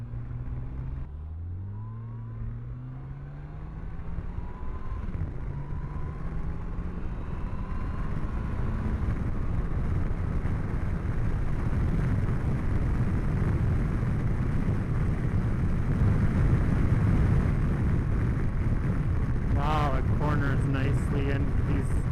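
A 2013 Yamaha FJR1300A motorcycle engine revs up as the throttle is opened, rising from a low idle into a steady, loud, sustained drone that holds for most of the clip.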